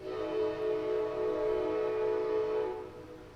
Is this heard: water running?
no